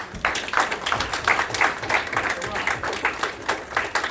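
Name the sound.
audience applause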